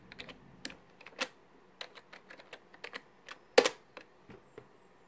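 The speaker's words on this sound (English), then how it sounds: "Excuse my terrible typing speed." Typing on a computer keyboard while setting up a PC, irregular clicks and key taps at a slow, uneven pace, fairly close and quiet, with one sharper louder keystroke partway through.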